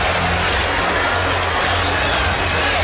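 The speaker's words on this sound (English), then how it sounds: "And this crowd is now very much into it." A dense arena crowd at an NBA All-Star game roars steadily and loudly throughout, a constant wash of cheering with no pauses.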